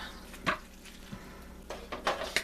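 A spoon scrapes and clinks against a pot while turkey chili verde with tomatillos is stirred, a few quiet knocks and scrapes spaced out over a soft low hum.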